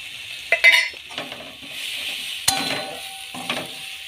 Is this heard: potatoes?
yes